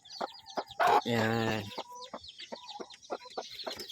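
A mother hen clucks in short, repeated calls close by, with one louder drawn-out squawk; a brief word is spoken.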